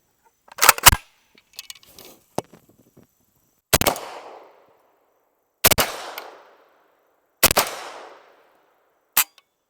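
Rifle shots fired at a rough 25-yard zero check with a Chinese OKP7 sight, several sharp loud reports spaced a couple of seconds apart, each with a short decaying echo, plus small handling clicks.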